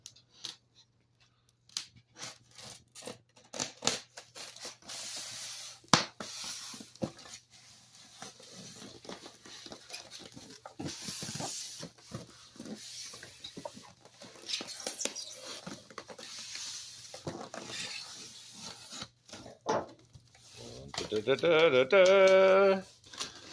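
Tape being peeled and torn off a cardboard package wrapped all the way around, for a 1:14 scale RC stadium truck; scratchy ripping and crinkling in irregular bursts, close by, with brief soft talk.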